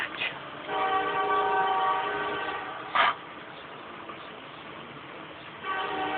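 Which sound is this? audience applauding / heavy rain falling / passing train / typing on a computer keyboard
passing train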